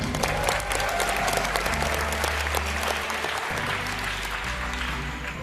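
Students from SMA Korpri Bekasi applaud together at a campus talk, a loud, dense and steady clapping that holds through the clip with no voices on top.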